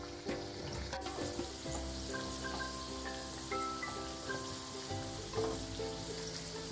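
A sweet stuffed snack deep-fries in hot oil, giving a soft, even crackling bubble that runs steadily throughout, fairly quiet and close, with no voices.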